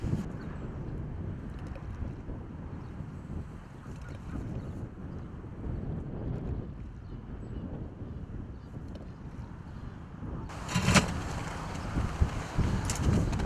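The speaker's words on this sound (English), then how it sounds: "I'm going to have to get the brolly up because the wind is ripping" Strong wind buffeting an outdoor microphone at a catfishing spot, a continuous low rumbling roar that swells into harsher, louder gusts near the end.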